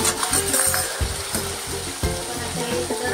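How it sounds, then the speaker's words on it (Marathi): Stuffed crabs frying in a spiced oil tempering with garlic-ginger paste, a loud crackling sizzle broken by repeated rhythmic stirring scrapes against the pan, close up. "आता हे कुर्ल्या सगळ्या आतमध्ये घातलेले आहेत या फोडणीवर"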